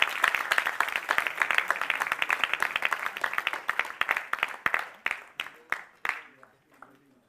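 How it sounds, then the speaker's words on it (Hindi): A theatre audience at a stage performance claps in dense, sustained applause that gradually thins into scattered individual claps before fading out. "सभी के उत्साहवर्धन के लिए हम निरंतर तालियां बजाते रहें"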